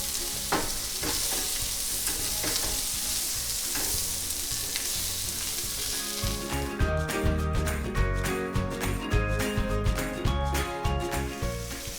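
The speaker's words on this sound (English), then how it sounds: "Now I'm going in with my baby bellas. Now these mushrooms will soak up that oil real quick." Baby bella mushrooms sauté hard in hot oil in a pan, giving a continuous close sizzle, with stirring clatter and scraping growing busier in the second half.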